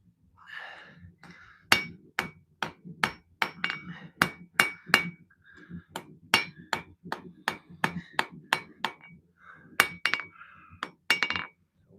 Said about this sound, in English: Now we need a small hammer.